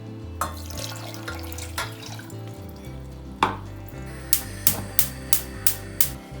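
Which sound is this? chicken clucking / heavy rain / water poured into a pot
water poured into a pot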